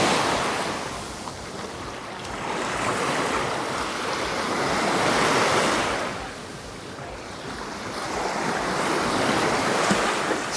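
Ocean surf rolling onto Lamai Beach on Koh Samui, Thailand, heard as steady swelling and receding waves at moderate distance with wind rushing over the microphone and no talking.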